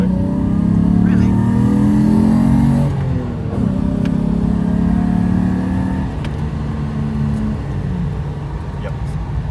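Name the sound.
turbo car driving past at GTR festival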